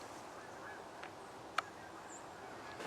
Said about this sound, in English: Geese, we got geese in the air here.